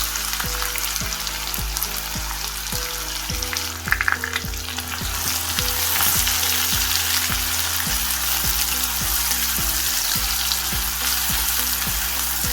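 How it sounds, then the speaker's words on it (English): Onions sautéing with browned garlic in a pan, a steady close sizzle under a regular knocking rhythm of stirring, the frying growing a bit louder midway. "We're going to be adding the onions now."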